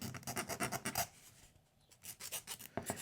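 A file rasps against the sharp point of a metal jaw harp frame with light pressure, in short, quick rhythmic strokes, then a brief pause before the strokes resume, close and fairly quiet.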